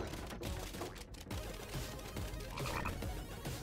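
A red frog in the video game Final Fantasy VII Rebirth croaks in a steady run of quick, rattling calls over busy game background sound, fairly close and moderately loud, with no talk over it.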